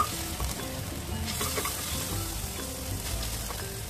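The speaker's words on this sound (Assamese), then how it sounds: "কিছু ভজা হৈছে ধুনীয়া গোন্ধাইছে" Potatoes fry in hot oil in a kadai, giving off a steady, close sizzle with occasional clinks and scrapes of stirring throughout.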